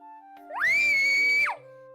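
A single high-pitched scream that rises sharply, holds steady for about a second, then drops away, loud and isolated against a quiet background.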